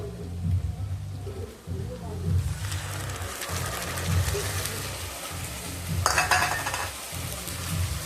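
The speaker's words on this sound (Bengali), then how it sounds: "দেখো, পেঁয়াজটা ভালো করে ভেজে নিয়েছি, এবার দিয়ে দেবো আদা জিরে বাটাটা।" Ginger-cumin-chilli paste sizzles with well-fried onions in a hot pan, a steady bright hiss swelling midway with a louder crackling burst near the end, over a low repeating hum.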